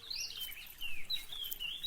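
Small birds chirp and trill in bright, high, repeated calls, fairly close and light, over a quiet background with no talking.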